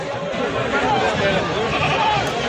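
A large pregnant goat bleats close by at a livestock market, its wavering cries blending with people talking over a busy, crowded background.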